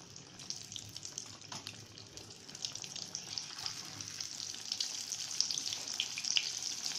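Chicken shami tikki patties coated in egg fry gently in a pan over a low flame, giving a soft, steady sizzle and crackle that builds slightly louder toward the end, with no voices.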